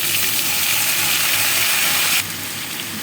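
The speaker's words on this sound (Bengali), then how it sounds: "এবার আমি আলু পটল আর কাঁচা লঙ্কা আছে সেটা আমি দিয়ে" Potatoes, pointed gourd and green chillies hit hot oil with nigella seeds, giving a loud, steady, close sizzle that drops abruptly to a quieter hiss partway through, with no voices.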